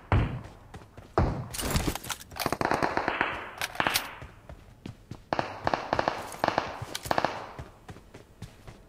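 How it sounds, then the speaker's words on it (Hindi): Rapid bursts of gunfire in the PUBG Mobile battle game crack loudly and close, firing in dense, repeated volleys with sharp impacts for the whole stretch. "मेरे पास से शूं करके गुजर रही गोलियां"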